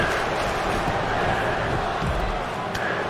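A wrestling crowd in Rochester roars at an indoor event, a steady loud wash of cheering and shouting that stays dense throughout with no pauses.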